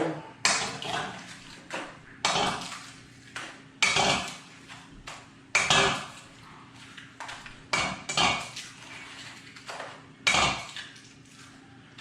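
Nine eggs cracked one after another against a bowl for an egg and milk dip, a series of sharp cracks and clinks at a steady pace, close with no talking.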